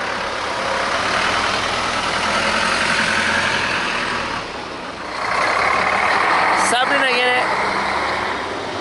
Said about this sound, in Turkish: Ama otobüsler geliyor bakın.